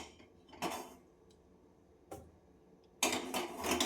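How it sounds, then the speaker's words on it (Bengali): A wok set down on a gas stove in a home kitchen gives a few faint, brief metallic clanks and knocks, spaced apart in an otherwise quiet room. "এইবার আমি গ্যাসে একটা কড়াই বসিয়ে দিলাম"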